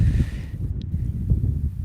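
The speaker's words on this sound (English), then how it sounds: "Big gust of wind." A strong gust of wind buffets the camera microphone at an outdoor varsity high school baseball game, a steady loud low rumble and roar filling the whole moment, close and unbroken, with no talking over it.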